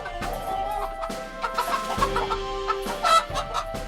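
A hen clucks repeatedly in short, irregular bursts, fairly close, with a faint background hum and no other voices.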